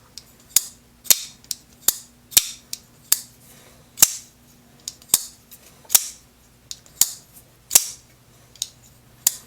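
Sharp metallic snapping clicks repeat in an uneven rhythm, roughly a dozen crisp close-up strikes from a Tuya Mutt ball-bearing action as it fires out and retracts, with quiet gaps between them and no talking.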